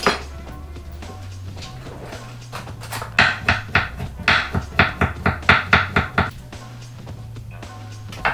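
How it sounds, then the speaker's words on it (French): A knife chops ginger on a cutting board in a home kitchen, starting with scattered knocks and building into a steady run of about a dozen quick, sharp taps before slowing again. "on va venir hacher notre gingembre"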